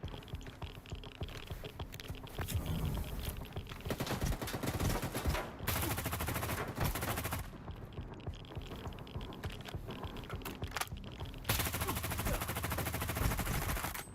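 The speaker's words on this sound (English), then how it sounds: "Who is shooting me and from where?" Rapid bursts of automatic gunfire in the S.T.A.L.K.E.R. 2 video game at night, loud clattering volleys separated by brief pauses and scattered single shots, with no talking.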